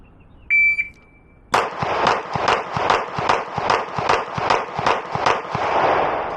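A Glock 19 pistol fires a timed drill from low ready at seven yards: a shot-timer beep sounds, then about thirteen sharp, loud gunshots ring out in a fast, steady rhythm.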